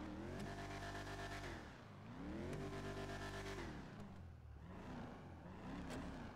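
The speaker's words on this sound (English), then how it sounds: "Engine sounds nice." A car engine in the video game GTA V roleplay revs hard and accelerates through repeated rising and falling sweeps, loud and close, with no talking.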